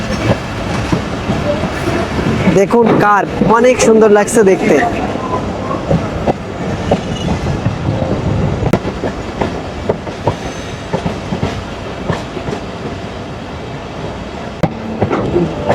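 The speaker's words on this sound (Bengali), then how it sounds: "সিঙ্গিয়া জংশনের কাছে এসে মংলা কমিউটার ট্রেনটি গতি কমিয়ে দিয়েছে।" A Mongla commuter train slows as it nears Singia Junction beside the Jessore–Khulna highway, its rolling wheels clattering loudly and steadily close by while someone talks over the noise.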